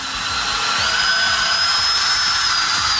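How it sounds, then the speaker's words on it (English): A power drill boring into material while DIY sound absorption panels are being built, sending out one steady, loud, high whine that holds for about three seconds, very close to the microphone. "And second drilling"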